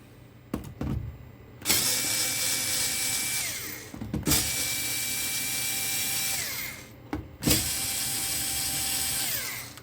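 A Parkside PAS 4 D7 cordless screwdriver, a cheap Lidl tool, drives a screw in repeated whirring runs, its motor whine steady and close, broken by short clicks and pauses between bursts, with no talk.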